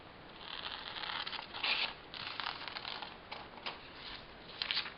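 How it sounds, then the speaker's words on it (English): Scissors cutting through magic transfer paper and a polymer clay bezel at close range: faint, dry papery snips and crinkles in an irregular series, with no talking. "I'm going to use scissors for the rest, because I'm going to be cutting the magic transfer paper and the bezel at almost the same time"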